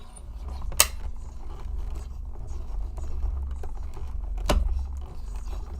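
A manual die-cutting machine cranks a very detailed die through with a steady grinding, creaking rumble, broken by two sharp clicks, close and without speech.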